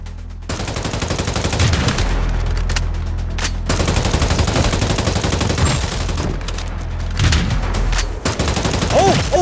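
Rapid bursts of gunfire from the City of Outlaws video game crackle loudly in repeated volleys, with brief pauses between strings of shots and a few game sounds mixed in.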